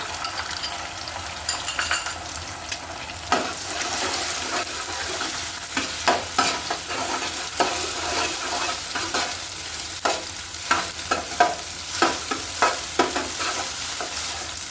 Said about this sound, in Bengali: এবার আমি গোলমরিচের সাথে মিশানো ফাটিয়ে নেওয়া ডিমটা দিয়ে দিলাম